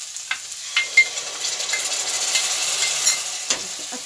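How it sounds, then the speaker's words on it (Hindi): Yogurt and spice mixture sizzles steadily in a hot pan while a spoon stirs it, bright crackling frying noise with occasional scraping taps, close and fairly loud. "इसको अच्छी तरह से चलाते हैं, इसको दो मिनट तक ऐसे ही पकाते हैं।"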